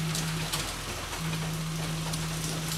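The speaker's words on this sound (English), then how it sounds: "It's raining right now." Rain falls steadily outside a garage during work on a 2010 Camaro 2SS, a soft, even patter with a faint steady hum running beneath it.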